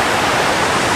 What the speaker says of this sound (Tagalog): so ito na po ang Biga Falls